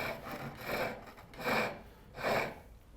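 A chisel, held nearly vertical with its bevel rubbing, cuts a spinning wooden chair leg on a lathe, giving three rasping, scraping strokes at a steady rhythm, close and moderately loud, with quieter lathe hum between them.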